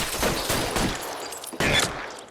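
Gunfire from a shootout in the video game L.A. Noire, dense bursts of shots in rapid succession with a sharp loud volley near the end, filling the whole stretch.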